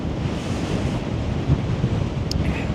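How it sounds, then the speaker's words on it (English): Strong, constant wind of about 30 to 40 mph on an exposed mountain summit, roaring and buffeting hard against the microphone throughout. "at the top here, we've probably got a constant 30 to 40 mile an hour wind"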